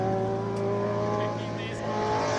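A front-wheel drive VW Jetta Mark 1 (Fox) race car runs at a classic car speed event in Cape Town, its engine droning loud and steady under a commentator's voice.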